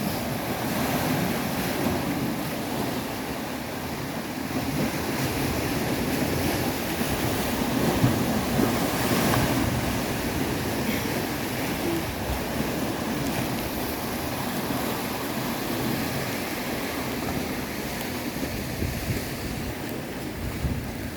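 Strong high-tide waves surge and crash continuously at a beach, a loud, rolling roar of surf with gusts of wind buffeting the microphone throughout.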